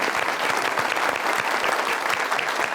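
Loud, dense audience applause for a performer at an Eid special music show, a steady wash of many hands clapping close and continuous throughout.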